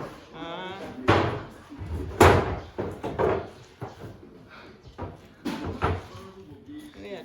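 Kitchen cabinet drawers are opened and shut several times, giving sharp wooden slams and knocks spaced irregularly, close by, while people talk over and between them.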